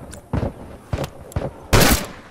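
A turret fires in The Last of Us multiplayer, sounding as several separate punchy bursts spaced about half a second apart, the last one longest and loudest, heard close with no talk.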